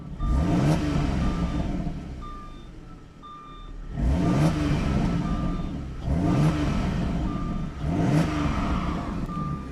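Engine and exhaust of a Jaguar S-Type V6 car rev in repeated swells, four rising bursts a couple of seconds apart, close and steady, with a faint intermittent beeping in the background.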